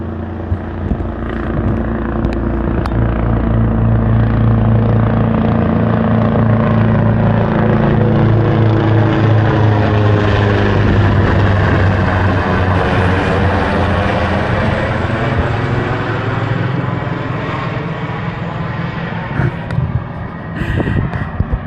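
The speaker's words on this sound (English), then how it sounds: "Oh look, there's a helicopter." A Coast Guard helicopter roars loudly and steadily overhead, its thudding rotor drone swelling and shifting in pitch as it passes, with no one speaking.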